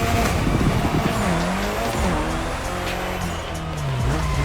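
A car drifting in the racing video game The Crew Motorfest, its engine revving up and down loudly and continuously with tire squeal mixed into the roar.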